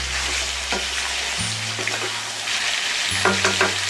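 Smoky marinated chicken sizzles steadily as it is stirred in a pan, with a few soft scraping strokes of the spoon over the constant frying hiss, close and alone.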